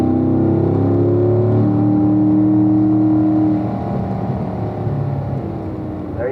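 A car with an automatic gearbox accelerates on a race track toward turn 1 near a bridge, its steady engine drone rising and then easing off as it settles into the next gear, close and loud, no talk.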